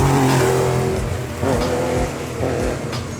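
Porsche rally car accelerating past on a stage of the Rallye du Quercy, a fairly subdued engine note rising and falling with gear shifts, heard from the roadside.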